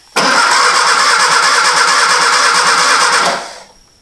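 A Triumph Spitfire engine cranks over with no spark and does not fire: a loud, steady, rhythmic starter churn for about three seconds, then it stops and fades into quiet.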